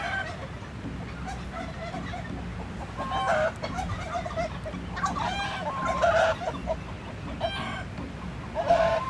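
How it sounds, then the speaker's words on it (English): Chickens and turkeys on a biodynamic community farm in Ecuador cluck and call repeatedly, several birds close by with short bursts scattered over a steady outdoor background. "Anyway, that's chickens and turkeys."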